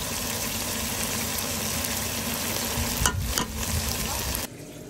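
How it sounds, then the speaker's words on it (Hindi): Tender mutton fries in a pan with tomato puree, giving a continuous close sizzle with a couple of brief stirring scrapes just after three seconds. The sound cuts to near quiet at the end, with no talking. "हमारा मटन सही तरीके से गल गया है तो अब हम इसको फ्राई करेंगे। साथ में हम डालेंगे इसके अंदर टमाटो प्यूरी।"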